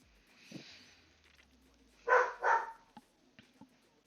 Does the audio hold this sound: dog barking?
yes